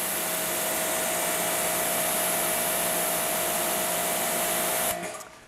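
A Ryobi 2300 psi electric pressure washer runs with a steady, loud motor whine and a hiss of spraying water, then cuts off near the end, leaving a brief fading tail.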